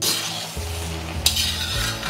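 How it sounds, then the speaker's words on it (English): Noodles and seafood simmering in broth are stirred in a pan for Singapore Hokkien prawn noodles: a soft bubbling sizzle with scraping utensil strokes and one sharp clink. "Stir well and cover."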